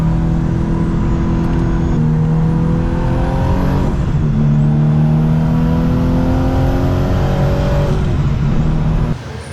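Car lapping a race track on low-grip tires, its engine holding a steady drone with pitch shifting up and down through gear changes and corners, loud and continuous before cutting off at the end.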